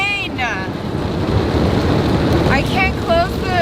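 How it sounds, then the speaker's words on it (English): Heavy rain lashes a tent while someone camps alone, making a dense, continuous roar of drops and wind buffeting close to the microphone. A voice rises and falls over the downpour at the start and near the end. "Just getting hit in the face with rain."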